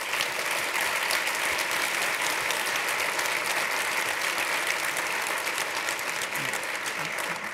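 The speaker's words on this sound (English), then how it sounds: "if we could please give the governor a huge round of applause for bringing us all together." Sustained applause from a lunch keynote audience honoring the governor, a dense, even patter of many hands clapping steadily throughout with no break.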